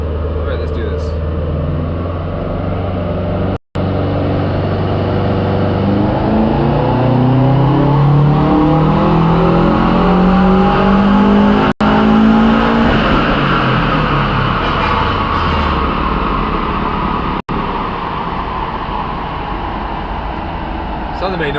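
A car with a 2.5L engine swap revs on a dyno, a loud sustained engine note whose pitch climbs steadily and then falls, broken by a few sharp clicks.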